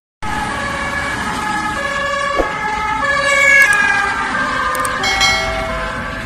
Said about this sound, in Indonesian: Ternyata ini adalah ambulan.